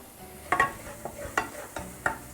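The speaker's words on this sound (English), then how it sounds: "So let it sizzle there for a little bit." Garlic sizzling in oil in a pan for an Ecuadorian recipe, heard as a soft steady crackle with several sharp clicks and taps of a stirring utensil against the pan, no talking.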